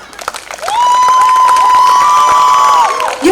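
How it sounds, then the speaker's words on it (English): Audience at a pageant fashion show cheering for the managing director: a long, loud, sustained whistle rides over a crowd and scattered clapping, holding steady for a couple of seconds before cutting off. "Let's give a big round of applause for Ashwini,"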